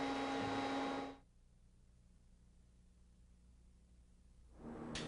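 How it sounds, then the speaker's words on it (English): A vacuum cleaner runs loud and steady over a table surface during O gauge layout building, then cuts off. About three seconds of quiet room tone follow before the motor starts up again. "Next, clean the table surface with a vacuum."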